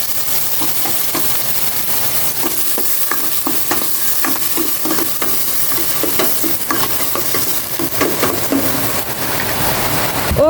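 Garlic, onion and tomato sautéing in a pan, a loud, dense sizzle running throughout with a rapid series of spoon scrapes and clinks against the metal, close and alone.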